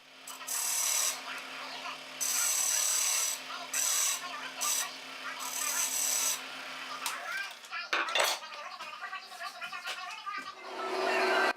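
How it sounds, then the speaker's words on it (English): Wood being hand-sanded with 150 to 400 grit sandpaper for a Moroccan table, long bursts of loud abrasive rasping strokes with short gaps, then a stretch of clatter and handling noises, close by. "I'm going to turn over to sanding. I will start with 150, move my way right up to 400 grit."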